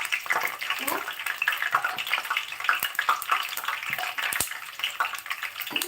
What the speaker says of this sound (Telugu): పల్లీలు బాగా వేగాలి లేదంటే పచ్చి పచ్చిగా ఉంటే బాగోవు